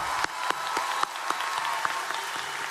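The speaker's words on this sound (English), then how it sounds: "a round of applause to you all" A large commencement crowd applauds the College of Wooster Class of 2025 graduates, a steady, dense wash of clapping with a few sharper individual claps standing out, continuous and fairly distant throughout.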